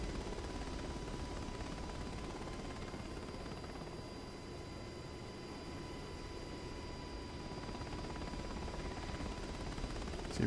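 Blackhawk helicopter in a flight simulator game, a steady, droning rotor and engine roar with a thin constant whine, continuous and even at moderate level, rising slightly at the very end.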